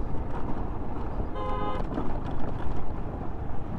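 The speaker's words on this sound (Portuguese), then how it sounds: "Escuta as buzinadas." A single short car horn honk sounds on a dusty mountain road in Bolivia, moderately near, over constant wind and vehicle rumble.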